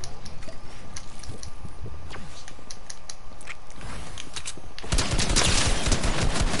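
Rapid video game gunfire crackles as a steady stream of clicking shots through the first five seconds, then swells into a louder, denser burst of firing at the end.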